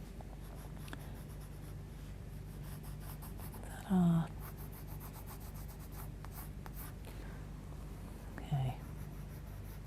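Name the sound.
drawing with Graphitint pencils on paper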